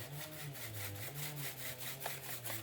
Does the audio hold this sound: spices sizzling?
no